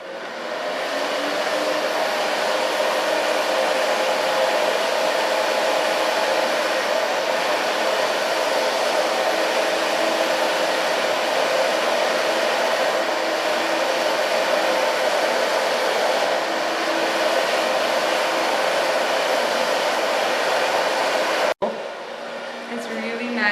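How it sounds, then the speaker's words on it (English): Hair dryer blowing continuously during a salon blow-dry of long hair, a steady loud whooshing hum close to the mic, cutting off briefly near the end before resuming. "And start with blow drying in the underlines."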